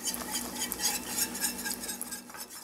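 A whisk beats milk into a roux for a bechamel sauce in a pan, quick rhythmic metallic clicking and scraping at close range, with no voices.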